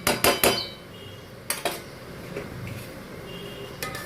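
A lid is set on a cooking pot of banana flower ghonto, giving a quick burst of metallic clinks at the start, then a couple more taps and a faint clink near the end over quiet background.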